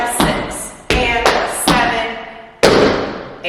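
Tap dance shoes striking a hard floor in an intermediate-advanced combination, a sharp irregular run of close, loud taps and heavier stamps with short ringing decays.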